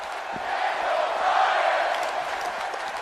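A virtual arena crowd chants in the WWE 2K17 wrestling video game, a continuous, dense roar of voices that swells slightly in the middle and holds steady throughout.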